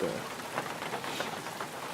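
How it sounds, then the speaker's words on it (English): Rain falls in woodland near an old abandoned barn during the Wisconsin rut, a steady soft patter and hiss on surfaces, fairly quiet and continuous. "it starts raining"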